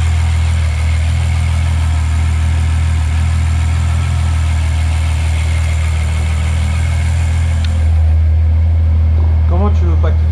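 A Ferrari 812 with its naturally aspirated 6.5-litre V12 runs at a steady, loud idle, a dense continuous hum that holds throughout, changes slightly near the end, and is joined by a few brief vocal sounds.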